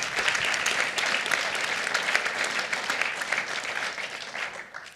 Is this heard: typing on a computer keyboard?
no